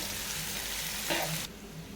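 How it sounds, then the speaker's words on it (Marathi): Finely chopped onions sauté in a pan for chicken masala, a steady close sizzle with a brief louder burst of stirring before the sound drops to a quieter hiss. "बारीक चिरलेले दोन कांदे मध्यम आकाराचे दोन बारीक केलेले कांदे कांदे आपण छान गुलाबी रंग येईपर्यंत परतून घेऊया"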